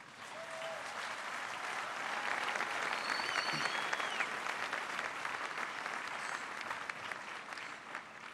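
A large audience applauds the armed forces during a speech by Emmanuel Macron, steady dense clapping running loud and continuous through the whole stretch with a faint crowd murmur beneath.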